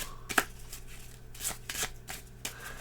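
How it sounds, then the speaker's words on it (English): A pile of Azul board game cards being shuffled by hand, giving several short, crisp riffling bursts at irregular intervals, close and fairly soft against a quiet room hum. "I would take the first pile, and then I would shuffle it, give it a good shuffle."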